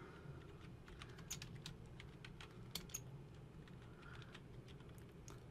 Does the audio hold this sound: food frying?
no